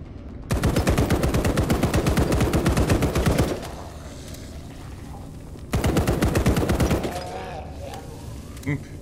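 Rapid automatic gunfire from the video game Blackout Protocol comes in two loud, sustained bursts separated by a short lull, each a dense stream of shots close and up front.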